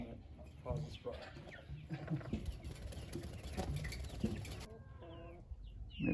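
Chickens in a farm chicken run cluck and call softly at a distance, a faint scattered chorus of bird noises with a little patter and some quiet voices beneath.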